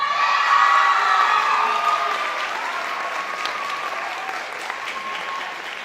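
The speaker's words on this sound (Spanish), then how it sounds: "Que sea más fuerte ese aplauso, por favor, para los alumnos de primer grado, segundo grado y tercer grado." An audience claps at a school closing ceremony, a dense burst of applause that starts strong and gradually thins while cheers ring out over it.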